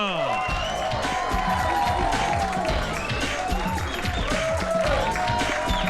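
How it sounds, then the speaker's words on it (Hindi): A crowd at a product launch for a drink called Josh applauds and cheers, with dense clapping, shouts and excited voices forming a loud, continuous wash. "तो लीजिए उनकी शान में हो जाए जोरदार तालियां"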